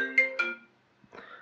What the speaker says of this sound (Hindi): उधर ही देखो चलो फोन आने लग गए